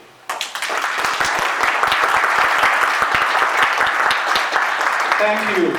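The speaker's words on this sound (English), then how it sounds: "Great round of applause, Mr. Conchu." A crowd bursts into loud, sustained applause, dense clapping continuing steadily for several seconds.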